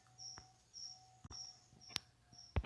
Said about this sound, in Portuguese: O grilo tá frenético.